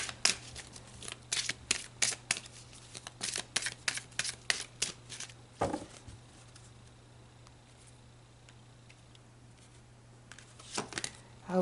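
Tarot advice cards are shuffled in rapid bursts of crisp riffling flicks, close and distinct, followed by a quiet pause and a few more flicks near the end.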